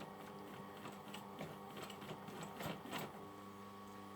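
A domestic sewing machine with a size 12 needle stitching slowly in reverse through several layers of fabric, giving a faint, steady mechanical whir with soft rhythmic needle thumps and no talking.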